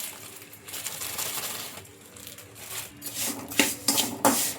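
Salt poured into a hot kadai on a stove for roasting, a dry rasping, scattering patter that builds into several louder gritty bursts near the end, close and with no talking.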